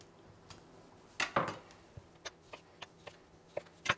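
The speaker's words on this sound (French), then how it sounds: "Les tomates, c'est super simple. Il nous suffira juste de la couper en deux." Tomatoes halved with a knife on a cutting board, a string of sharp clicks and taps spaced about every quarter second, quiet and close, with no talking.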